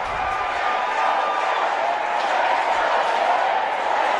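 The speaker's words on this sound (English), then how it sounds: "Let's go Dems, a chant from the third base side." A big crowd roars and chants from the third base side at Nationals Park during the 2018 Congressional baseball game, a dense, steady wash of voices that is loud throughout.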